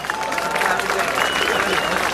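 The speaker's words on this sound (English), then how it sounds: "Give yourselves a round of applause." Crowd at a large city-sponsored Diwali celebration in Texas applauding, a dense, steady clapping that fills the space, with voices audible within it.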